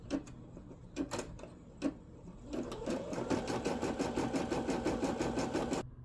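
A Brother M380D embroidery machine starts after a few separate clicks, then runs with a fast, steady mechanical stitching rattle, close and continuous, until it stops abruptly.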